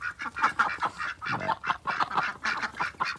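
A flock of farm ducks quacks loudly and close, calls tumbling over one another in a rapid, uneven chorus with no pauses.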